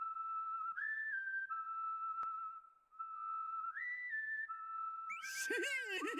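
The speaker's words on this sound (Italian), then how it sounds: "Ti andrebbe di fischiettarlo insieme come vecchi tempi?" Two-toned melodic whistling of a tune in the Yo-kai Watch 3 video game, steady sustained notes rising and falling over several phrases, joined near the end by a burst of warbling, trilling whistled notes.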